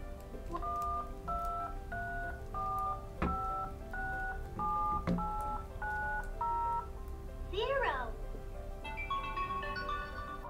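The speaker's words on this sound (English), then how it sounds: "the buttons down here, it will be telling you the tone and also pretend to be like a phone" A LeapFrog Chat & Count Emoji Phone toy beeps out a run of dual-tone button presses in a steady sequence, followed by a brief warbling chirp and a short ringtone-like melody, close and loud.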